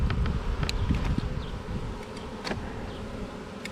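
Attendant bees inside a queen bee shipping box buzz close and continuously, with the hum rising and falling as individual insects move about and no talking.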